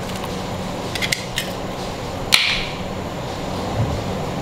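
A single sharp crack of an egg against a bowl rim, followed by the egg dropping into tea cake batter, with a few light taps just before. The sounds are close and fairly quiet, with no talk.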